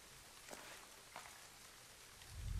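Rain falls in the Splinter Cell video game, a soft, faint steady patter with a few slightly brighter drops, calm and distant before a low rumble swells at the end.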